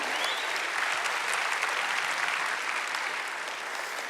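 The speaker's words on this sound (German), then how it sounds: "Applaus, Tim" A sustained wash of audience applause for Tim at a church talk, dense, steady and loud throughout with no breaks or voices standing out.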